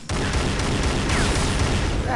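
Gunfire in the video game Unreal Tournament, a dense continuous barrage of loud booming shots with speech mixed in.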